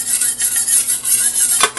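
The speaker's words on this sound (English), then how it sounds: "It's great for scraping your rolling pin clean too, as long as you don't have a wooden one." A dough scraper scrapes butter residue off a rolling pin while making gluten-free puff pastry, giving a run of close, rhythmic scratchy strokes with a brief sharper clack near the end.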